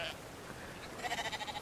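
Sheep bleating in the video game Brothers: A Tale of Two Sons, a short wavering run of repeated bleats over faint background game ambience, moderately close.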